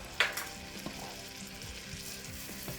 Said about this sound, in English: I'm going to go ahead and stir this in with the butter until it gets all incorporated